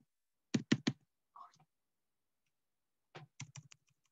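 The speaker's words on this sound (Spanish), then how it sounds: "No sé por qué tengo como el teclado malo, pero acá lo voy a escribir acá" Keys on a faulty computer keyboard are struck in two short bursts of three to five quick clicks, separated by a pause, close and fairly soft.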